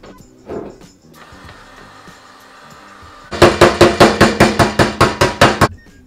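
After some quieter handling noises, a rapid, evenly spaced series of about a dozen sharp hammer blows rings out on a heat-gun-warmed Nissan S15 car fender, loud and close.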